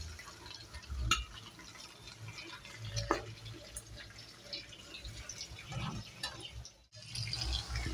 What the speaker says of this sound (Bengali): আগে থেকে ফুটিয়ে রেখেছিলাম জলটা, দিয়ে দিলাম